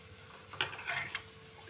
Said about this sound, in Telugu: ఇప్పుడు మనం దీనిలో ఒక కరివేపాకు రెబ్బ ఇలా పైన వేసేసుకుందాం